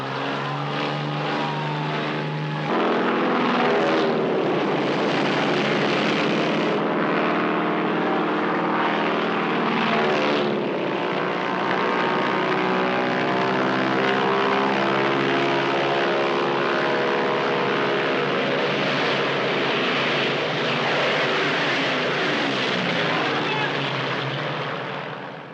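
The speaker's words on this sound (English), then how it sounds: "The first of 400 Japanese bombers and torpedo planes take to the air." Japanese propeller-driven bombers and torpedo planes take off, their engines making a sustained loud roar that swells and shifts in pitch as the aircraft climb away, heard alone without talk.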